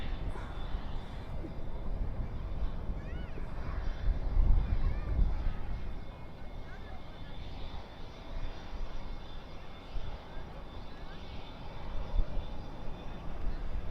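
American Airlines Boeing 737-800 arriving at Dallas/Fort Worth airport at night, a steady distant jet engine roar with wind buffeting, swelling briefly mid-way before settling into a continuous rumble.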